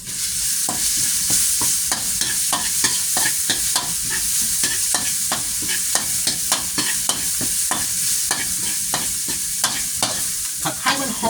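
Stir-frying in a wok for pad kra pao with minced pork, a continuous hot sizzle broken by rapid rhythmic clanks and scrapes of a spatula on the metal; close, loud and steady throughout, with no talking.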